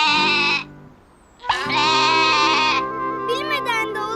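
A cartoon goat bleats in drawn-out, wavering cries, one short call followed after a pause by a longer loud bleat, with a higher voice joining at the end.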